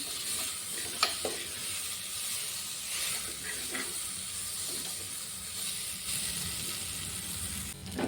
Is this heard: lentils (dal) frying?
yes